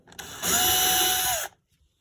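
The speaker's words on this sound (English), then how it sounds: "drill down just a little bit" A power drill whirs at high speed for about a second, loud and close, after a short start-up buzz, then stops abruptly into silence.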